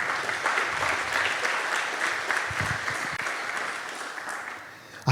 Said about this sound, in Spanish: Dale un aplauso a tu rey.